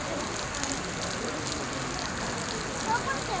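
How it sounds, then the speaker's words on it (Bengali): Heavy rain pouring at Pashupatinath temple in Nepal, a dense, steady hiss of downpour filling the whole moment without a break. "মন্দিরের সামনে এসেই পুরো বৃষ্টি জোরে নেমে গেছিলো"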